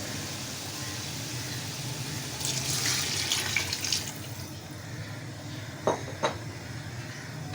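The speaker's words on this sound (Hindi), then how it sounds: "इसमें जाएगा पानी।" Two cups of water poured from a vessel into a pot of matar pulao with dissolved tomato and spice masala, a fairly loud splashing pour in the middle followed by a couple of short splashes, with no talking.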